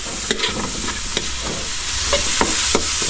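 Meat and hotdogs fry in hot oil in a pan, giving a constant sizzle broken by sharp scrapes and clacks as the food is stirred and turned.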